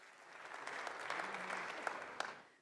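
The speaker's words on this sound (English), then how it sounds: "Another round of applause." A round of applause for a panel at a NATO summit, heard faint and distant, swelling gently then fading, with a few sharper individual claps standing out near the end.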